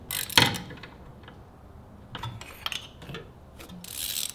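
Ratchet socket wrench working on a car spark plug: a loud click burst near the start, then scattered ratcheting clicks and clatter of tools, ending in a brief rustle, close up with no talk.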